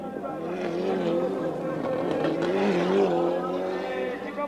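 Rally race cars at the 1996 Race of Champions rev and drift with rising and falling engine tones. A commentator talks over them continuously throughout.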